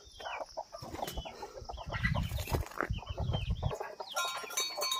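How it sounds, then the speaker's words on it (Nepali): Chickens on a farm, adult hens alongside small chicks, clucking and cheeping in quick irregular bursts, close and fairly loud, with a busy low rustle beneath and several overlapping birds. "यो चाहिँ ठुलो कुखुराहरू, यहाँ सानो बच्चाहरू पनि छ।"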